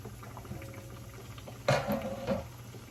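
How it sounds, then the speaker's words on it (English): A piece of chicken frying in hot oil on a stove for a homemade fried chicken sandwich: a soft, steady sizzle and bubbling, with a brief louder crackling burst midway, no talk. "You can see it's frying"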